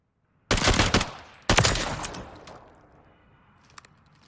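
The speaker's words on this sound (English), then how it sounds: "So we're going to want 4 shots as fast as possible." A FAMAS F1 rifle fires in Call of Duty Modern Warfare III: two loud, sharp bursts of close, rapid gunfire about a second apart, each ringing out into a fading tail, with a faint click near the end.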